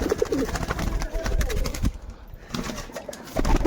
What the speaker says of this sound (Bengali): ঘুঘু পাখি তোমাদের ধরে দেখাবো